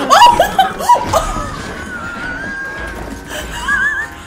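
Horse in Red Dead Redemption 2 whinnies loudly with several quavering, rising and falling neighs, then a long drawn-out cry and a final shorter whinny, close and prominent over game background.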